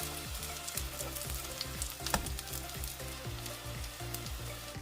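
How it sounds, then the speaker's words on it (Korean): An oyster mushroom pancake fries in oil in a pan over medium-low heat, giving a steady close sizzle with fine crackling and pops, alone and unbroken. "밑면이 노릇해지면 뒤집어서 중약불에서 구워주세요"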